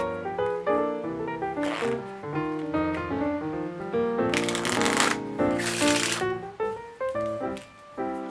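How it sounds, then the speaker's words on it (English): A pack of playing cards is riffle shuffled close up, crisp rapid fluttering bursts of cards interleaving, repeated in a few quick runs with soft handling sounds between. "So that was the riffle shuffle."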